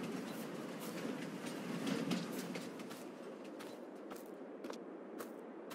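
A train in Farming Simulator 22 rolls past on rails with a continuous rumble and a rhythmic clickety-clack, moderately close and fading slightly toward the end.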